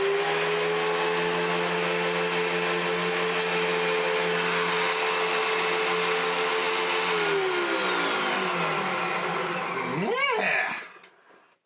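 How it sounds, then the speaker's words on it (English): A Hoover Junior U1650 upright vacuum cleaner running after a stripped-fan repair, a loud steady motor whine with a smooth tonal hum that dips in pitch, then winds down and cuts off near the end. "We'll go plug it in and see what happens."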